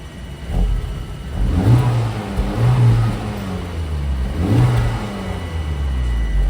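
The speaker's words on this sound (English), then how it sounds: "start this car real quick and show you guys what this car sounds like now" A Honda Civic Type R FL5 engine revs up and down in several surging blips, deep and rumbling, close by with no talking.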